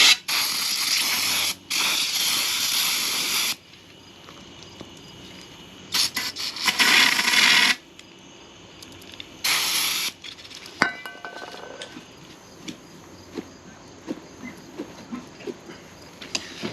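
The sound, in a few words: brake cleaner being sprayed on a power steering hose fitting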